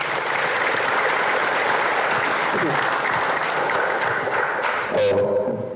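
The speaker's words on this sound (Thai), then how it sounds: "ขอพวกเราปรบมือให้ท่านเจ้าของคำถามหน่อย" An audience at a Buddhist dharma talk breaks into sustained applause for a questioner, a dense, even wash of clapping that holds throughout, with a voice briefly heard near the end.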